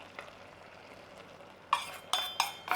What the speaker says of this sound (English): And stir to thicken.